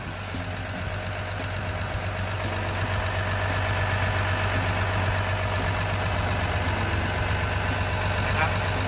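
A Komatsu GD305A-1 grader's non-turbo six-cylinder diesel engine runs at a steady idle, a constant low rumble with a faint rhythmic chug, while a person talks over it.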